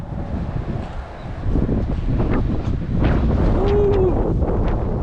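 Cold wind gusts buffet the microphone beside a highway, a loud rumbling roar that swells and surges for a few seconds, with no talking.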